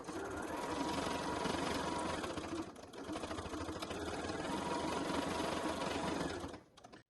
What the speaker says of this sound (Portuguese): Vamos passar uma costura em toda a volta pra fixar esse fole aqui no corpo principal da nossa bolsa